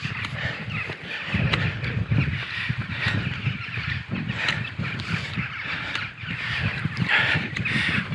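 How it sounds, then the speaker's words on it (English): Crows circling over open fields near an abandoned house in misty Cornwall, harsh caws repeating at intervals over a steady outdoor rumble of wind and footsteps. "The crows are circling."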